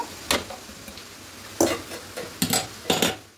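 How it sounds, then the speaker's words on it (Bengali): Coriander leaves, green chilli and garlic being crushed in the kitchen, heard as a few sharp, separate pounding knocks spaced irregularly over a quiet background. "খুব ভালো করে থেতো করে নিয়েছি ধনে পাতা আর লঙ্কা রসুনটা"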